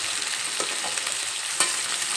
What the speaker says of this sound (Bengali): বাটা মশলাটা আলুর সঙ্গে খুব ভালোভাবে মিশিয়ে নেব।